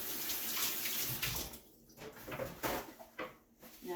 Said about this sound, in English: excuse me while I rinse my hands